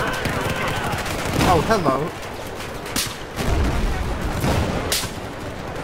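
Bursts of gunfire from a Battlefield 4 multiplayer battle with a tank nearby, dense rapid shots and booms layered over talking, loud and continuous across the scene.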